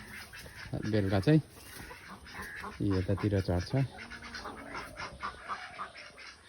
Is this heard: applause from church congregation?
no